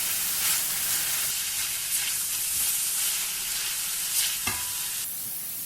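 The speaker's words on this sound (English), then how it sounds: "Fry the onions till they are translucent." Sliced onions fry and sizzle steadily in a pan, with occasional stirring scrapes and a brief clatter near the end; no voices.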